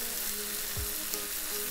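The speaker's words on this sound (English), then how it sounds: "I'm gonna leave it again for it to sear at the bottom and caramelize at the bottom as well" Stir-fried beef searing and caramelizing at the bottom of a hot pan, giving a steady, dense sizzle that is close and moderately quiet, with no voices.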